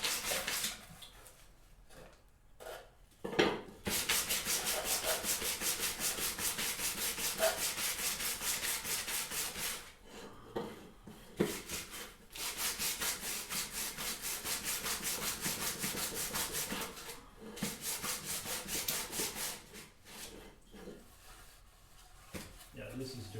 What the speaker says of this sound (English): just kind of touch it up with a little bit of sandpaper or steel wool